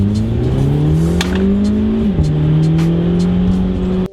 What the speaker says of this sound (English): how amazing this car sounds just with a muffler delete